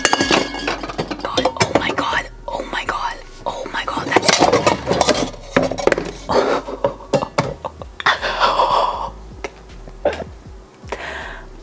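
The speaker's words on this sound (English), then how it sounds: "I was trying to get the top for the pan and everything fell." Pans and lids falling and clattering in a kitchen, a burst of metallic clanks, clinks and rattles, close and loud, with whispering voices in between.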